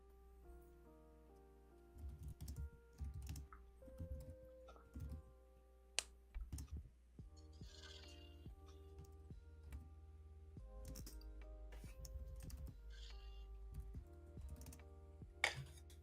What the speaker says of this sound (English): Feel like she's typing away.